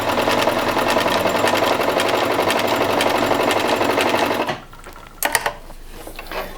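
A Privileg Ideal 750 sewing machine stitches seams in a fast, steady mechanical whir and rapid needle clatter, loud and close, before stopping abruptly into a brief quiet with a few small clicks and adjustments.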